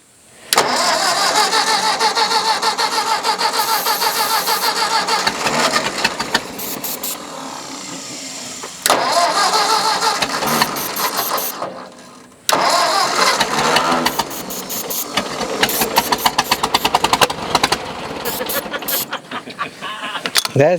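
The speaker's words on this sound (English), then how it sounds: "The Bendix kicks out every time it cranks, or it would, if it keeps starting." An old Ford farm tractor engine cranks hard in long, loud bursts with short pauses between them, then catches and runs roughly in stuttering pulses, close by.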